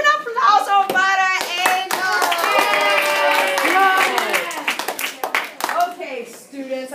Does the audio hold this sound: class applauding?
yes